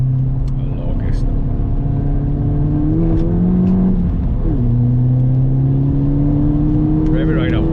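A remapped car engine running close by at a steady drone. The revs climb and hold briefly, then drop back to a higher idle, with people talking faintly in the background.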